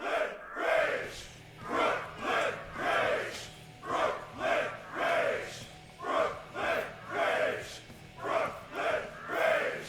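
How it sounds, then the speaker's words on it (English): A wrestling crowd chants a wrestler's name in a steady rhythmic pattern, about a dozen loud repeated shouts rising and falling evenly, with a low hum running underneath. "As the crowd chants his name"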